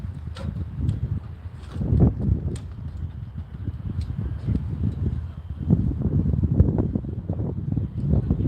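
Wind gusts buffet an outdoor microphone beside a dock while fishing, making uneven low rumbles that swell and fade, with faint rustling and occasional knocks throughout.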